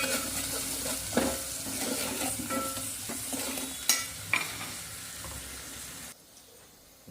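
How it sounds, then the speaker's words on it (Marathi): A kadhi base with sugar and turmeric being sautéed in a pan, soft sizzling under steady stirring and scraping, with a few sharper knocks of the spoon, close by, before the sound suddenly drops away near the end. "2 मिनिटापर्यंत परतून घ्या"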